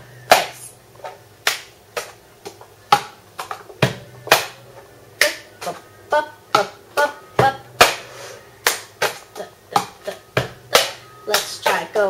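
Sharp hand claps and cup taps and slides from the cup song pattern ring out in a brisk, repeating rhythm, close and crisp, with short gaps between the percussive hits.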